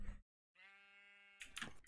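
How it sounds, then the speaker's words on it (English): A sheep bleats in Minecraft, one clear wavering baa lasting under a second, fairly quiet, set between brief bursts of other game sounds. "I hear sheep."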